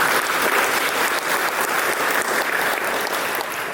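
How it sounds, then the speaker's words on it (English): Audience at a high school basketball banquet giving a round of applause, dense and loud clapping from a room full of people that stays steady for the whole stretch, with no voices above it. "Everyone just give them a round of applause."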